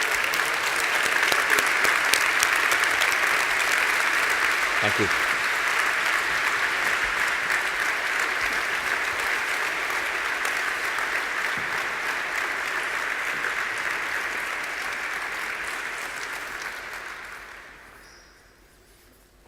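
Sustained applause from an audience at the 2017 Oslo Business for Peace Award ceremony honoring the award recipients. It stays loud and dense for about seventeen seconds, then fades out, and a brief spoken thanks is heard within it.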